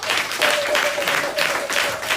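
A church congregation applauds, a dense continuous wash of many hands clapping in swelling waves, fairly loud and close, with no voice over it.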